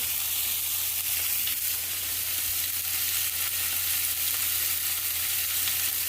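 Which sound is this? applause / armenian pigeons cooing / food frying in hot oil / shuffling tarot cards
food frying in hot oil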